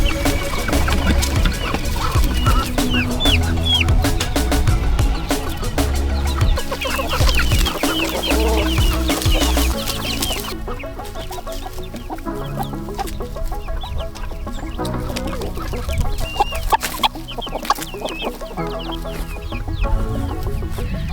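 A flock of chickens clucking and chattering nonstop, close and busy, with no talking.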